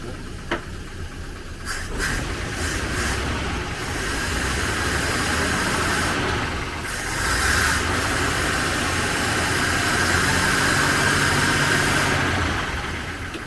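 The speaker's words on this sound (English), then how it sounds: "I'll rev it up to see if the clutch is at the top of the travel" A 1939 Rover Tickford 20 drop-head engine, running again after sixty years, idles and revs steadily at close range, with a continuous rough mechanical hum and hiss and no talk.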